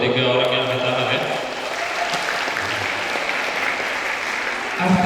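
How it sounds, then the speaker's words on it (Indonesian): Audience applause at a university public lecture on financial freedom, a dense, loud wash of clapping filling the room that holds steady for several seconds, with some talk beneath it. "Tepuk tangan dong buat 3 orang yang angkat tangan ya."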